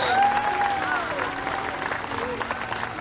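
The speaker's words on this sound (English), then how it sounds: "one more round of applause for the Freedom Scholars" Audience applause at a gathering standing with child refugees: a dense, steady wash of clapping with a few high whistles or cheers rising over it at the start, fading slightly toward the end.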